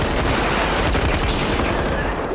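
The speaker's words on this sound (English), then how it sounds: "Listen to how incredibly loud the guns are." Very loud rapid gunfire from a gunfight scene in the City Hunter film, dense overlapping bursts of shots filling the whole stretch without pause.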